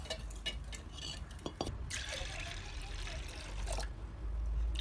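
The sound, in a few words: pouring fresh water onto chana dal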